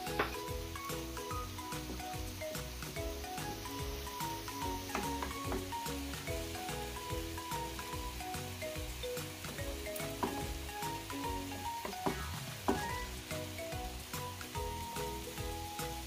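Two eggs frying in oil in a pan alongside Schezwan cauliflower rice give a steady, dense sizzle, close and constant, with occasional scrapes of stirring and no talk.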